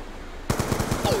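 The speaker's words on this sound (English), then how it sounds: "I love just emptying bullets into people and nothing happening" Rapid automatic gunfire in Call of Duty Black Ops 2, a sudden burst of about eight evenly spaced shots, close and fairly loud after a brief quiet start.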